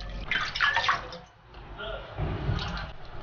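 Boiled chicken feet being rinsed by hand in purified or cooled boiled water, a splashing, sloshing wash with water movement swelling and easing over a few seconds at close range.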